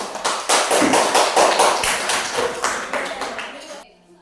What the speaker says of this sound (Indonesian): Dan kelompok 1 kita tepuk tangan.